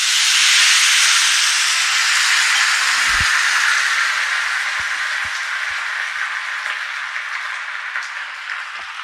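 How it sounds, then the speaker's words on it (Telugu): Water poured into a hot pan for oats upma sets off a loud, sustained hiss of steam that slowly fades over several seconds, with a few faint knocks partway through. "ఈ వాటర్ పోసేయాలి ఇందులో."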